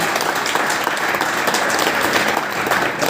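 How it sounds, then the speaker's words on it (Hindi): A crowd of trainees at a live training session bursts into loud, continuous applause for two achievers, a thick, steady roar of clapping hands from many people close by. "मैं चाहूंगा एक बार दोनों अचीवर्स के लिए जोरदार तालियां।"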